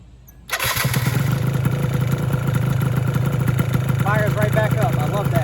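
A Vento Triton R4 motorcycle engine cranks and catches after a short quiet moment, then settles into a loud, steady, fast-pulsing idle with mechanical clatter and a slightly raised idle, as a voice speaks briefly near the end.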